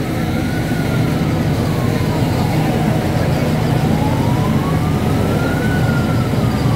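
A wailing ambulance siren rises and falls slowly over steady loud road and engine noise, sounding fairly distant.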